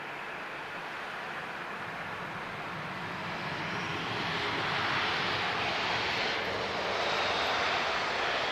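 A jet aircraft at Lisbon Airport gives a loud, steady broadband roar that swells gradually as it draws nearer, with no voices over it.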